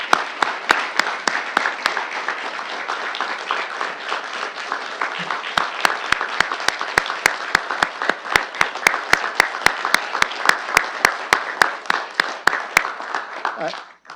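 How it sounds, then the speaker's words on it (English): A warm, sustained round of applause fills a city council chamber, with steady clapping holding for over ten seconds before tapering off at the end. "join me in a warm round of applause"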